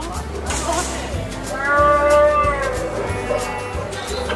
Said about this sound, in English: And the sounds of a Wookiee or two.